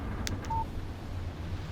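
A short electronic phone text-message tone in the video game Alan Wake Remastered: a brief pair of high digital chirps over a low background hum.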